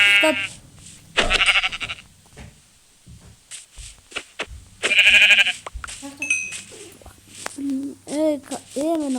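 Two loud, drawn-out sheep bleats from Minecraft stand out, with a voice talking and scattered clicks in the quieter gaps.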